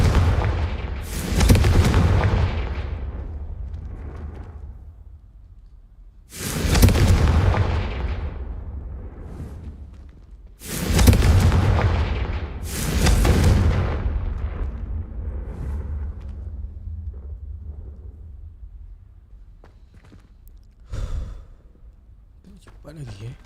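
Confringo fire spell blasting at braziers to light them in the Hogwarts Legacy video game: four loud booming blasts, spaced a few seconds apart, the last one shorter and fainter.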